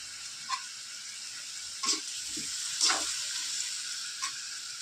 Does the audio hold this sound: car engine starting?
no